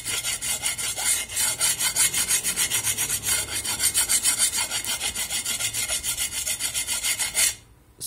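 A hand file rasps steadily across a painted scooter wheel rim, repeating rhythmic back-and-forth strokes up close that run evenly for several seconds before stopping abruptly.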